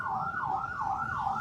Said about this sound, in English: it's better for me to ignore what they are doing with that ambulance